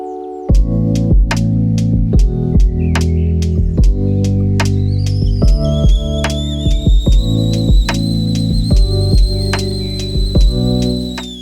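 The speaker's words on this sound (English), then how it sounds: "we definitely had fun with our blue whistling kettle" A steady, high-pitched kettle whistle comes in partway through and holds, sounding over bright, rhythmic plucked music that plays throughout.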